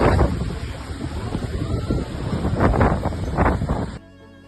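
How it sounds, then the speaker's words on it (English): Storm Kathleen's waves pounding the coast at Porthleven, Cornwall, England: loud, continuous roaring wind buffets the microphone over crashing surf, then the sound cuts off abruptly near the end. "Storm Kathleen caused impressive waves in Portleven"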